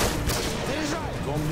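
Rapid gunfire bursts ring out in a shooter video game, fairly quiet and dense, with several overlapping shots across the short stretch.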